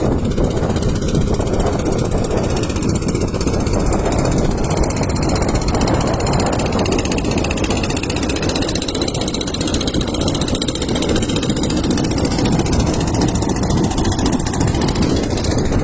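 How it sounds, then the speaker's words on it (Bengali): A small engine boat carrying a load of grass on a river, its motor giving a steady, loud droning rumble that runs unbroken throughout with no talk over it. "এই ইঞ্জিন নৌকার মধ্যে ঘাস নিয়ে যেতেছে দেখেন"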